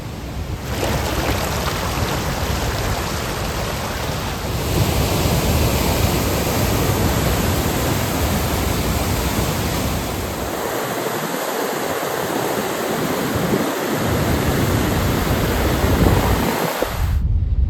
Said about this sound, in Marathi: पाण्याचा फ्लो बघा यांच्या गावाला जे धरण आहे त्या धरणाचा विसर्ग इकडं केला आहे